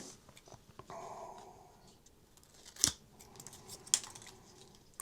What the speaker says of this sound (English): and I trim my film